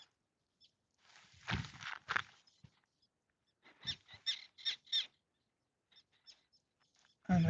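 Wild birds call outdoors at a reservoir in a few short, faint bursts of chirps and tweets, with scattered footsteps and long quiet gaps between them.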